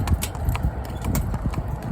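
Hooves of a chestnut Welsh Cob mare clip-clop on the hard surface of the A30 road, a quick, close, even rhythm of sharp knocks.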